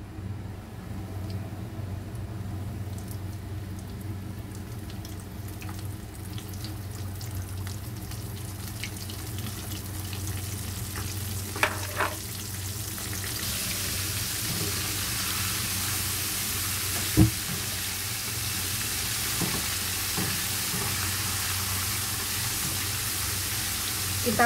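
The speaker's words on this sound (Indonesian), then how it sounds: "Nah, ini minyaknya sudah panas, kita goreng ya teman-teman." Fish coated in cornstarch frying in hot oil, a steady broadband sizzle that swells louder partway through with a few faint clinks, no voices.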